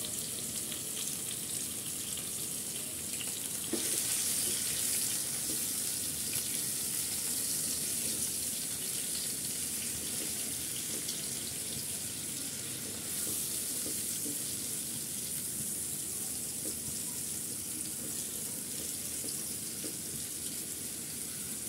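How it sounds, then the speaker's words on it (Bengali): Marinated chicken pieces for shawarma fry in a pan at home, giving a steady, close sizzle with soft scraping of stirring throughout and no talk. "এখানে আমি মাংসটা নেড়ে চেড়ে আমি সম্পূর্ণ মাংসটা আমি সেদ্ধ করে নেব।"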